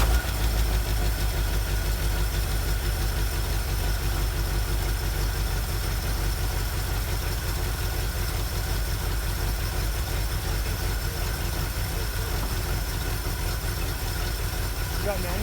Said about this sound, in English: Let's hook it up to the battery, we'll see if she fires up.